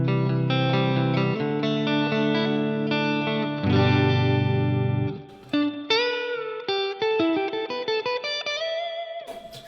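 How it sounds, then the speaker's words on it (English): Electric guitar chords and single notes ringing through a Boss RV-6 reverb pedal on its spring setting, a springy, drippy reverb with a bright metallic splash trailing each note, loud and close. "Next we'll move on to the spring setting, which is your more traditional amp sounding reverb"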